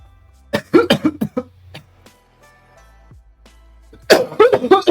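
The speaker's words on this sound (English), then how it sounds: "That cough seemed semi-controlled." A burst of loud, close coughs comes in a rapid cluster near the start, then a quieter gap with faint hum, followed by another harsh run of coughing at the end, all unaccompanied by speech.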